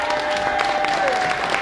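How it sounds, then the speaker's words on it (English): Audience applause at a 100th birthday party, a dense burst of clapping from a crowd with a few raised voices mixed in, loud and continuous for the whole short stretch. "Just give him some big applause"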